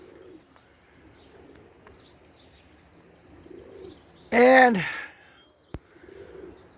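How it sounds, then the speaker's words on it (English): Roller pigeons give soft, low coos outdoors on an evening fly, faint and repeating, then one loud close burst of a bird call cuts in, followed by a brief sharp knock. "I do have some young birds out here flying around"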